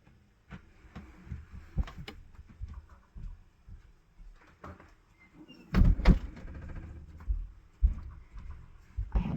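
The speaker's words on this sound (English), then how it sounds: "I had to get up and close my studio door." A studio door is handled and shut: scattered soft knocks and shuffles lead to a heavier thump and rattle of the door closing, followed by more muffled bumps nearby.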